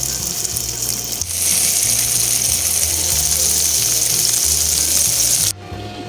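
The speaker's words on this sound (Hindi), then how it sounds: "अब हम इसको एक ट्रे में निकाल लेंगे और इसी तरह से सारे कबाब हम फ्राई कर लेंगे।" Chapli kebabs, Peshawari style, frying in a pan with a steady broadband sizzle and hiss that runs throughout, and low rhythmic thumps underneath; the sizzle cuts off sharply near the end, leaving a quieter hiss.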